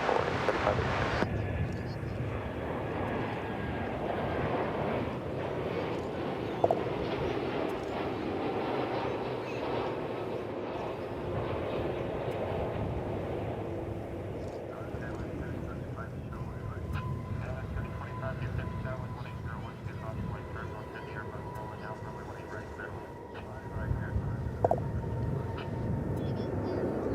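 Aircraft engine roar at DFW Airport, a steady loud rumble that swells and slowly fades across the span, with wind buffeting the microphone and people talking faintly underneath.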